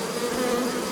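Honeybees from a captured swarm buzz densely at the hive, a close, steady droning hum that fills the whole moment without pause.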